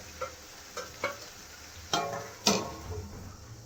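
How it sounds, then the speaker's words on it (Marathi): Brinjal pieces cook in oil in a pan for a spicy village-style curry, a soft frying hiss punctuated by several spoon-on-pan clacks and scrapes, close and quiet, no voices. "याला छान वांगे आपण शिजू देऊया तेलामध्येच"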